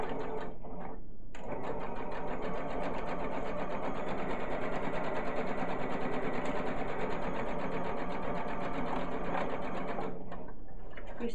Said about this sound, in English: You're so speedy with the back stitch.